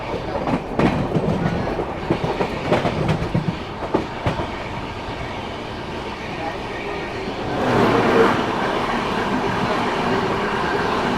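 An AC express train on the Delhi–Katra route rolls past with rhythmic clickety-clack of wheels over rail joints, loud and near, swelling again toward the end.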